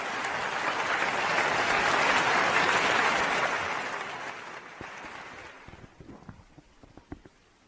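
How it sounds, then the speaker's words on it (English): Audience applause welcoming a speaker at a pharmaceutical product launch, a dense sustained clapping that swells, then fades after about four seconds into a few scattered isolated claps. "please welcome him with a huge round of applause"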